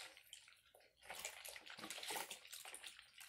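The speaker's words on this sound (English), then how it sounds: "I'm washing my mask, waving it around in the water." A cloth face mask is swished back and forth in a basin of water, giving close splashing and sloshing that starts quiet and grows busier and steadier after the first second.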